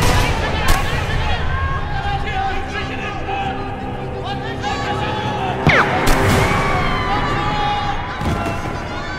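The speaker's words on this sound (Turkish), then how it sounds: "Bugün yapılan yürüyüşte az önce silah sesleri duyulduğu haberleri geldi." Gunfire breaks out at a street march in a TV drama, with a few sharp, loud cracks over wailing sirens and continuous talking voices.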